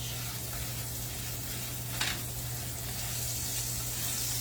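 A thin sausage patty fries in a skillet with a steady, close sizzle that holds constant, with a low electrical hum underneath and one brief clatter near the middle.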